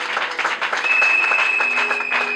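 A church congregation applauding and cheering, with dense, steady clapping and crowd noise throughout and a sustained tone running beneath it.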